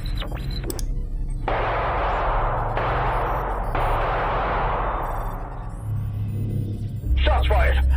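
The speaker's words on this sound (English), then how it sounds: "Shots fired." Staged gunfire in a sci-fi horror audio drama: a few sharp bursts give way to long, loud blasts with a dense rushing roar, several abrupt cuts, and a low rumbling hum rising near the end.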